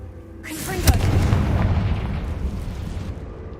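A Confringo fire spell in Hogwarts Legacy, heard as a sudden, loud blast with a sharp crack followed by a long rumbling, crackling decay, with no talk over it.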